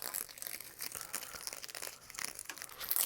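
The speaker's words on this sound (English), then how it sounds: "Let's get rid of the bar tape." Worn bicycle handlebar tape is peeled and pulled away from the bars, making close, irregular crinkling and tearing sounds in quick bursts with no speech.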